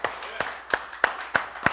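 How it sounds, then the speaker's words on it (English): A church congregation claps in a steady rhythm at a Sunday service, six sharp claps spaced roughly a third of a second apart, with a faint voice underneath. "Can you give him a hand clap this morning?"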